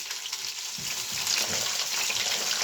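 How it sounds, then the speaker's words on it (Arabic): Hot oil sizzles and crackles steadily as chicken and qatayef fry in a pan, a close, continuous hiss that grows slightly busier partway through. "هحمر بقى القطايف والفراخ"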